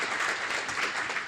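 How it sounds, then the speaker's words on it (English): A crowd at a transit town hall in Seattle claps and applauds steadily, a dense wash of hand claps with no pauses, moderately loud throughout. "Give him a round of applause"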